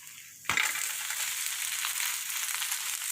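Sajjige holige (obbattu), a sweet flatbread, is flipped onto a hot pan with a little oil and bursts into a sudden sizzle. A bright, steady frying hiss then continues close by with faint crackling.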